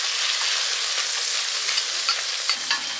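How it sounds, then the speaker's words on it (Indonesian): Onions sautéing in a pan at a street food stall, a steady bright sizzle filling the clip with a few small pops and light stirring taps toward the end. "Pertama kita masukin perbawangan dulu. Oke, kita tumis sampai harum."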